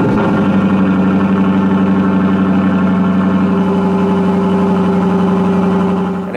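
Steady, loud idle from a Lexus LC 500's naturally aspirated V8 through dual exhaust tips, a deep even burble held for several seconds, close up and alone without talk.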